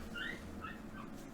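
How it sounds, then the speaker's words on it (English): A neighbor's dog whimpers and gives short yips in a few brief bursts, heard close over a steady low background hum with no talking. "I don't know what the neighbor's dog is going off about"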